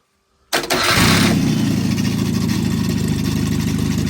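A 1200cc engine, primed with fuel, cranks after a moment of silence, catches almost at once and settles into a loud, steady, throbbing idle close by, with no voices.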